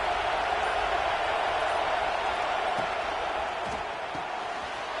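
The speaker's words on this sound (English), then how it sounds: "This crowd ready to make its presence known." A packed football stadium crowd at Alabama vs Tennessee keeps up a loud, steady roar that never lets up, with a few faint thuds poking through.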